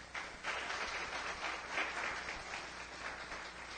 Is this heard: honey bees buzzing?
no